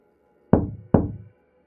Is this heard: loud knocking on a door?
yes